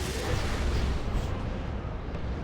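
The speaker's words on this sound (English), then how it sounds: "3 las cannons making short work of this Baneblade." Three las cannons firing on a Baneblade tank in Dawn of War 2: Retribution, a dense, rumbling barrage of booming shots blending into continuous heavy battle noise.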